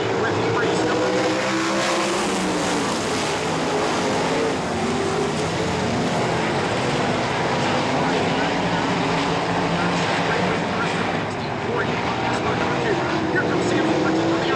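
Race cars run heat race number 1 at the Heat Nationals at Ohsweken, a loud, unbroken roar of many engines blending together for the whole stretch with no let-up.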